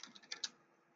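Light keystrokes on a computer keyboard, about five quick taps in under half a second, faint and close, then quiet.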